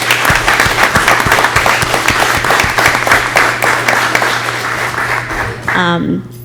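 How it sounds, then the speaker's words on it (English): Applause from the audience at a school board of education meeting. It is loud, dense, close clapping that runs steadily and then fades out near the end, with a low hum underneath. "I think we should just give her another round of applause"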